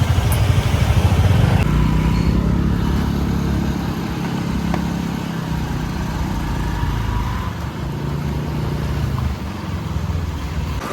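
A motorbike engine runs nearby with a steady, rough droning hum that stays fairly loud and even throughout, with no voices.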